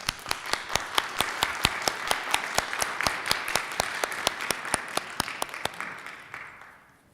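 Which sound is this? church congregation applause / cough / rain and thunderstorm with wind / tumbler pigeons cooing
church congregation applause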